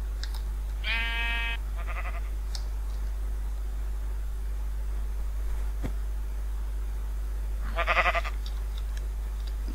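Sheep bleat in the Minecraft video game: two short, nasal bleats close together near the start, then a third a few seconds later, heard clearly over a quiet, steady background hum.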